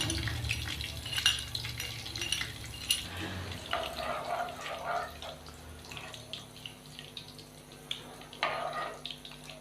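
Cumin seeds hit hot cooking oil for a mixed dal tadka and crackle in a bright, continuous sizzle that rises and falls in bursts, up close with no talking.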